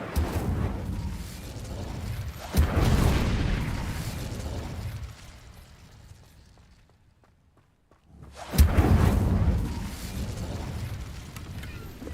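The Incendio fire spell cast in Hogwarts Legacy bursts out as a roaring whoosh of flame, swelling loud, dying away to near silence, then erupting again in a second fiery blast.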